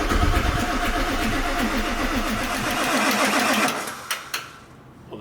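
A Ford 7.3 Powerstroke diesel engine in an auction truck cranks over with a rapid, rhythmic starter chug for about four seconds, loud and near, before it stops with a couple of knocks and a short pause.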